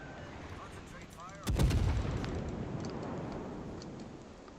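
A single loud naval gun salvo booms from a Saint Louis cruiser in World of Warships, with a sharp onset followed by a long rolling decay over ambient battle noise.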